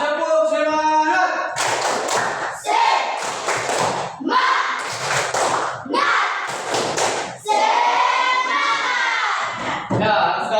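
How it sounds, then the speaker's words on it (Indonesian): An Indonesian primary school class does a rhythmic clapping cheer, with loud bursts of claps in patterned groups and children chanting along in unison. "Ya, tepuk semangat."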